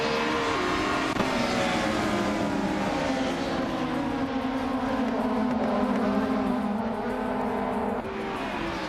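A 1993 Porsche 911 Carrera RSR racing at Circuit Bugatti in a video game, its engine a loud, continuous close-up howl with gently wavering pitch and no break.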